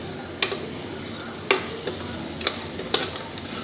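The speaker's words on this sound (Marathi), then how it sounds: "मस्तपणे मिक्स करून घ्यायची आहे भाजीची ग्रेव्ही" Mashed potatoes are stirred into pav bhaji gravy in a pan, with a constant low simmering sizzle punctuated by several sharp scraping knocks of the spoon at irregular intervals, no talking.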